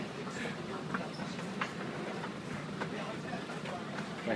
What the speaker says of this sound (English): Barcelona metro system.